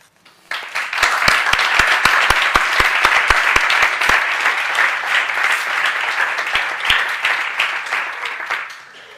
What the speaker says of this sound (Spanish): Os van a doler las palmas, al final